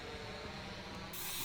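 An aerosol of hunting scent-control spray hisses as it is sprayed onto boxes for a police K9 test, a soft steady mist that bursts louder near the end.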